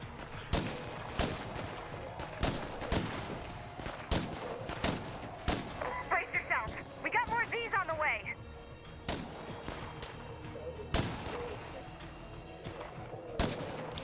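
Gunfire in the zombie survival game State of Decay, with repeated sharp shots in bursts and single cracks across the whole stretch, a short chattering passage in the middle, and people talking over it.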